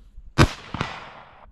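A 25 Creedmoor rifle fires outdoors during a five-shot group session: one sharp loud crack followed by a second report or echo, with a trailing decay.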